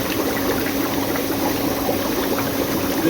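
Hot water pours in a steady, dense rush that stays loud and unbroken, close to the microphone, with no voices over it.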